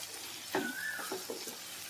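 Vegetables with spices such as coriander powder frying in a pan for pasta, a soft steady sizzle close by, with a brief clatter and scrape of stirring midway and no voices.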